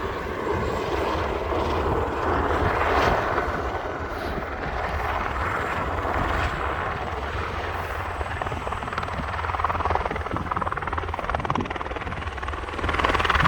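A large helicopter's rotor chop and engine drone hold steady throughout, moderately loud and continuous, with no voices, in Russia.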